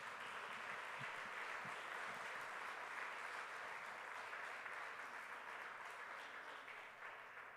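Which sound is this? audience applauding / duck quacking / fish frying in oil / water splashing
audience applauding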